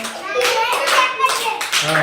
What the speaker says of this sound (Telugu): చప్పట్లు కొట్టి ఏమండి